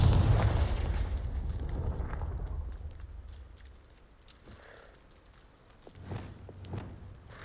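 A Confringo blasting spell from the Hogwarts Legacy game goes off in a loud, rumbling explosion at the start, then fades into a softer crackling decay, with a few small bursts near the end.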